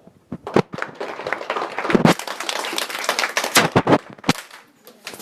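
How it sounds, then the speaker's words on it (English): Audience applauding student presenters after a senior physics presentation at a high school, a burst of scattered claps that thickens into steady applause with sharp individual hand slaps, near and lively. "I think we better give them a round of applause"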